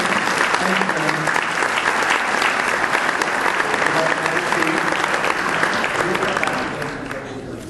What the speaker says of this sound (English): Ladies and gentlemen, I think they deserve a round of applause here.